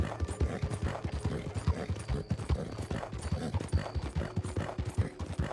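Horse hooves clip-clop steadily in Red Dead Redemption 2, a close, even trotting rhythm that runs throughout with a brief whinny-like snort, no talking.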